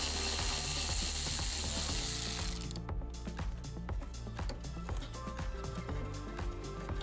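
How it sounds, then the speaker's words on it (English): A ratchet driving a 13 mm socket as it backs out battery tray screws on a GMC Yukon Denali, giving rapid repeated clicking bursts close up, loud and steady throughout with no talk. "you're going to take your 13 millimeter socket and you're going to remove your battery tray"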